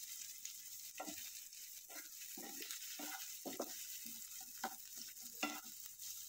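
Onion pieces dropped into hot oil for a vegetable sandwich stuffing, giving a steady close sizzle broken by repeated stirring scrapes and clinks, with no talking.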